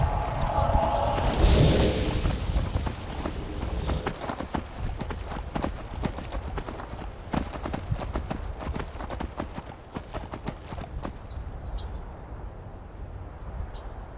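Horse hooves clip-clop at a steady trotting rhythm in the video game Skyrim, close and continuous for the whole stretch before thinning slightly at the end.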